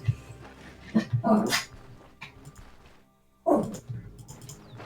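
A pet dog barks and whimpers at a person arriving indoors, giving a few sharp yips and whiny cries in bursts separated by a brief quiet gap, close by.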